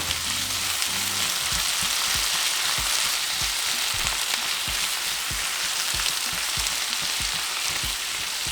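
Tomatoes and softened onions fry in a pan for bistec ranchero with potatoes, a dense, steady sizzle close up, with rhythmic low knocks of stirring running through it and no talking.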